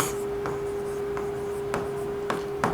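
A pen scratches across paper while a customer name is written onto a cash memo, with several sharp strokes over a steady background hum.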